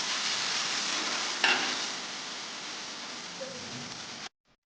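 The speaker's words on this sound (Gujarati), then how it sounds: "પછી આપણે તેને બરોબર મિક્સ કરીને થોડીવાર માટે મીડિયમ ફ્લેમ ઉપર શેકાવા દઈશું." Chili and tomato paste gravy frying on a medium flame in a pan for Gujarati fried tindora curry, a steady dense sizzle with a brief stir knock, ending abruptly.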